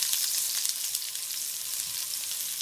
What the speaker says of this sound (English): we're going to cook the garlic until it's nice and golden